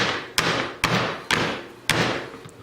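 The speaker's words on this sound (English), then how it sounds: "When you have it in, just give it a nice hard bang there" Four sharp, heavy thuds of chocolate-filled cups banged hard on a kitchen counter while making Italian-style panforte candy, evenly spaced about half a second apart, each followed by a short ringing decay, close and loud with no talking.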